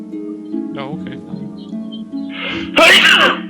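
A person sneezes loudly once, close by, during a tabletop role-playing game session, with voices talking around it.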